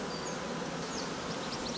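Dense buzzing of honeybees around an open hive during swarm-prevention work, a constant close hum with individual bees whining past.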